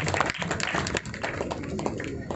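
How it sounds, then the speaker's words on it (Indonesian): Applause rises for a naval academy cadets' art troupe performing Saman dance and drumming aboard the warship KRI Bima, a dense, steady wash of clapping from a large crowd that continues throughout. "Berilah tepuk tangan yang meriah untuk tim kesenian Kadet Akademi Angkatan Laut."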